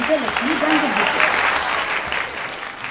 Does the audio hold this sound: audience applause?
yes